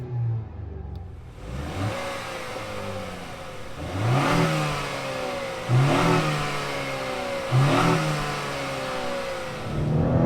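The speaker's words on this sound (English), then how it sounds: "it's just time to rev this guy up" A 2021 Acura TLX A-Spec SH-AWD with a 2-liter turbocharged four-cylinder is revved four times in a row, each rise climbing sharply then dropping back to idle, loud and close with nobody talking.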